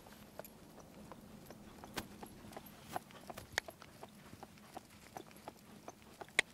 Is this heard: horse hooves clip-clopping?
yes